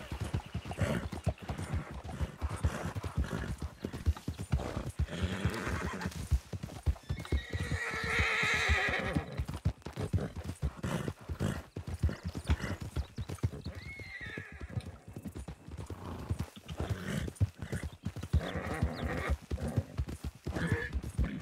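A horse in Red Dead Redemption 2 roleplay gallops with steady, rapid hoofbeats throughout and lets out a clear whinny partway through, close and without talk.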